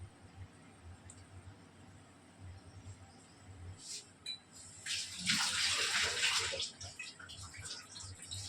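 Squeezed tamarind water poured into a simmering fish curry of kilimeen (pink perch), a steady splashing pour building mid-clip and fading, close and fairly loud with a low background hum.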